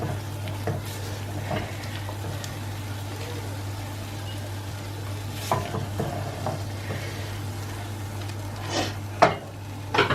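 Green chili paste is frying in a pan, with a low, steady sizzle under a background hum and repeated stirring scrapes and a few sharp metallic clinks of the spoon against the pot.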